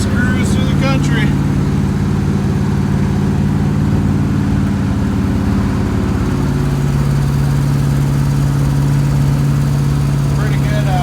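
A car engine cruises steadily along country roads, its low drone loud, close and constant throughout, with no pause in the hum.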